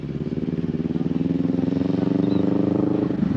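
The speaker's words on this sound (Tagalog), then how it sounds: "pinapaikot ko sa kanya yung big bike para masanay siya" A CFMoto 650NK 650cc motorcycle ridden in slow circles, its engine a steady, close, rhythmic low putter holding an even idle-like pace throughout.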